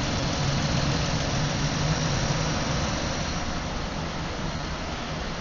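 A car engine idling during secondary ignition testing, a steady, loud, unbroken low rumble with no talk over it.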